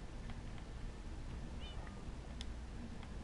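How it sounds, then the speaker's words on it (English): A Minecraft cat gives a short, faint meow partway through, set against steady in-game background noise, with a few small clicks around it. "There's another cat over here."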